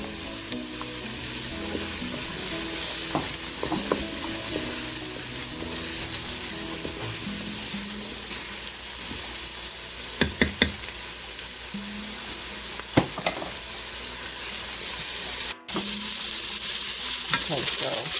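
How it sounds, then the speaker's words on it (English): Carrots sizzle steadily in hot coconut oil in a Ninja Foodi for a slimming soup, a continuous close frying hiss broken by a few light clicks and scrapes of stirring. "And then I'm going to saute in my carrots."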